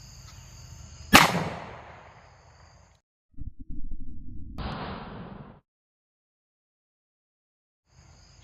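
A single sharp, loud gunshot from a 5-inch 1911 pistol firing .450 SMC 230-grain ammunition cracks out and rings away, followed after a pause by a second burst of rushing noise, then silence.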